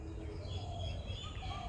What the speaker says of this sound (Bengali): তারপর পাখির ডাক শোনা যাচ্ছে